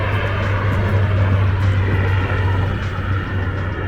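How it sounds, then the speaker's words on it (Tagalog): An airplane takes off near Toronto's Harbourfront, a loud, steady engine roar with a deep low drone that holds for several seconds in the open air. "Ayun, may nag-take off na aeroplano."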